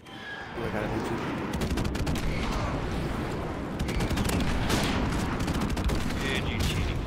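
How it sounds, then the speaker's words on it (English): Video game battle with friendly airstrike explosions, a dense continuous roar of blasts and gunfire rumbling loudly throughout, with a player's voice talking over the chaos. "Friendly airstrike on the way."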